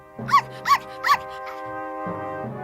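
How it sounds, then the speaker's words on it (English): A puppy in a children's fairy-tale story gives three quick, bright, yappy barks evenly spaced, followed by a lower sustained whine or growl, close and fairly clear. "At that moment, she saw a puppy a little further away."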